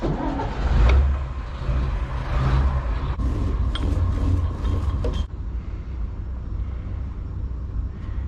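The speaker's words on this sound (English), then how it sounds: "And start up the engine." Dutch barge engine starting up, a loud low diesel rumble with a few sharp knocks and clatters before settling into a steady idle thrum, alone without talk.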